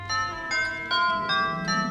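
A doorbell chimes in a run of five ringing, bell-like tones about every 0.4 seconds. Each stroke has a sharp attack and a sustained shimmer, fairly close and clear, with no talk over it.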